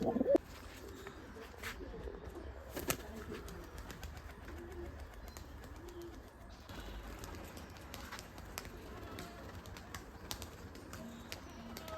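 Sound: old Giribaz pigeons cooing

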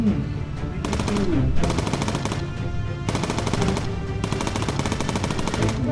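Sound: machine gun fire in video game Bomber Crew

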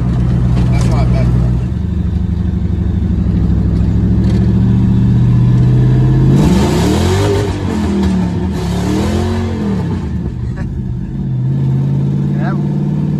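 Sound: Ford Mustang GT engine revving with wheels spinning

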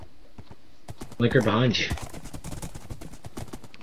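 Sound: horse hooves clip-clopping in a video game

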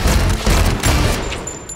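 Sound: gunfire in a movie trailer

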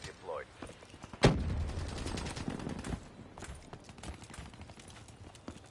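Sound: gunfire in Call of Duty Black Ops 3 video game

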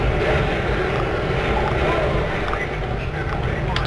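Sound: attacking helicopter in the video game Prototype

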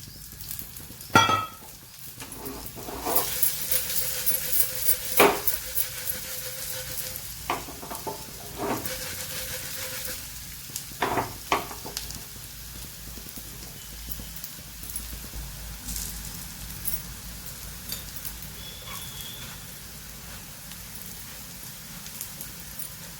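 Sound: cabbage cutlets frying in oil after flipping

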